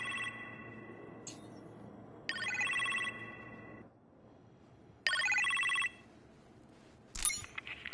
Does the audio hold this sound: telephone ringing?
yes